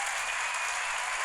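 A crowd applauds in a dense, continuous wash of clapping, loud and brief, with no gaps, during a podcast-style comedy show.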